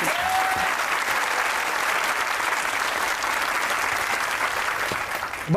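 A studio audience at a comedy talk show applauds in a full, even burst that carries on steadily without talk before tapering at the end.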